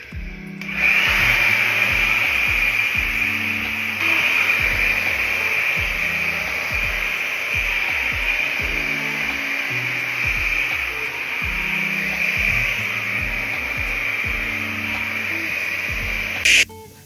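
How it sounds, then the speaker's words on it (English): A handheld hair dryer blows hair dry with a steady loud whooshing roar that runs almost continuously and is briefly cut off right at the end, with no voices. "I actually blow dry my hair out so that it can last."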